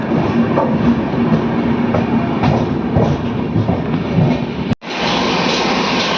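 Inside a sleeper class coach of the 12230 Lucknow Mail between New Delhi and Lucknow, a loud, steady rumble of the moving train is heard with rhythmic clatter, briefly dropping out before resuming.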